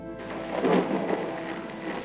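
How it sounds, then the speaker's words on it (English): Thunder in the video game Whispers of a Machine rolls as a low, rumbling swell that peaks and fades over a couple of seconds, alone, without voices. "Thunder."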